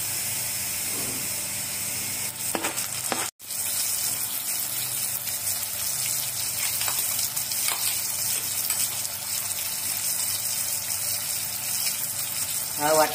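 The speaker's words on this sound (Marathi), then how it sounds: "आता आपण सर्वात आधी लसूण टाकू, फ्राय करून घेऊ। त्याला आता कांदा टाकू। कांदा आपला फ्राय झाला। आता आपण टोमॅटो टाकू।" Garlic, onion and tomato fry in hot oil in a pan, a steady hiss and sizzle with occasional stirring clatter and a brief sharp knock, continuing without speech.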